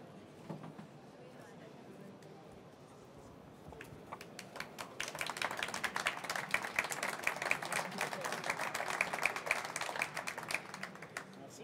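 Applause for a prize winner at the Sirha food trade show, starting faintly and then swelling into a thin, rapid patter of clapping from a modest crowd, with some talk in the background.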